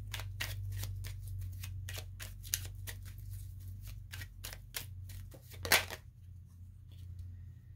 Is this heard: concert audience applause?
no